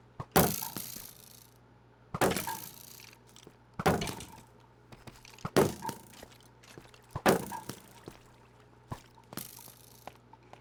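Deepslate blocks being broken in Minecraft, heard as heavy, crunching thunks about every two seconds, each standing alone over a quiet low hum.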